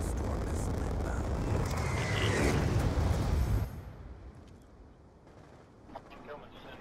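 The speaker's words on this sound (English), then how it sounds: "Hellstorm missile inbound." A Hellstorm missile strike in Call of Duty Black Ops 2 lands as a loud, dense explosive roar that lasts several seconds, then cuts off sharply into a quieter game background with faint scattered noises.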